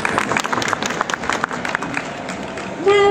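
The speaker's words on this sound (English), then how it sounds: "Come on, a round of applause," Audience applause and cheering for Honda's ASIMO humanoid robot at the 2011 Dubai Motor Show, a dense crowd clapping steadily for about three seconds, with a brief louder tonal burst near the end.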